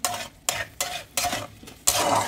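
Spice paste and blended tomato being stir-fried in oil, a spatula scraping the pan in regular strokes roughly every half second, each stroke bringing a burst of sizzling, close and clear.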